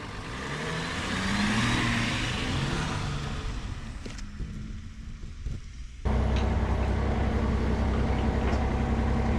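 Porsche car engine running and revving while being moved near a Yanmar mini excavator, a steady mid-distance engine drone that dips, then surges louder and closer for the final few seconds.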